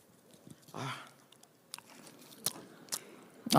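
A pastor chews gum close to a microphone during a church revival sermon, giving sparse, moist clicking and crunching chews with short silences between them, close and fairly quiet.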